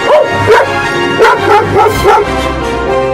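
A cartoon dog barks loudly and close in a quick series of yappy bow-wows, about six sharp barks in rhythmic bursts over a cartoon soundtrack.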